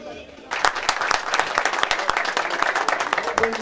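A crowd bursts into applause after a brief quiet moment as a city mayor arrives at a municipal public event, with dense clapping and sharp individual claps continuing, and voices faintly mixed in.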